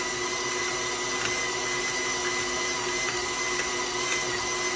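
An electric mixer beats butter and plain household sugar for oatmeal cookie dough, giving a steady, loud, unbroken whir that holds an even pitch from start to finish with no talking.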